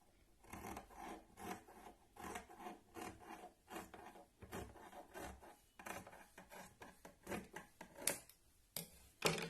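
The handle is cut off a cloth saree bag, giving steady, rhythmic rasping cuts close up, repeated stroke after stroke at a soft level.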